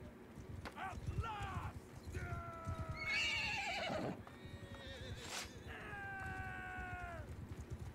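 In Mount & Blade 2: Bannerlord, horses whinny and neigh several times over a steady clip-clop of hooves in a woodland battle. The calls are loud and drawn out above the rumbling hoofbeats, with some speech under them.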